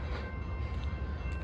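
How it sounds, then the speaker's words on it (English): A train rolls past at milepost 27 on the CP Cascade subdivision, a steady, loud low rumble of rail cars that fills the whole stretch without a break. "It's been 15 minutes and I hear another train."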